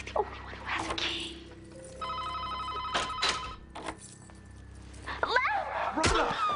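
A telephone bell rings in a steady trilling burst partway through a busy indoor scene, with knocks, thumps and voices around it.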